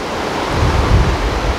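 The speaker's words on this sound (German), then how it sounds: "Hier kommt von rechts ein Bach." Water rushes along a brook by the Storvorsen rapids in Abisko National Park, a loud, continuous broadband roar with low rumbling, close to the microphone and with no voices.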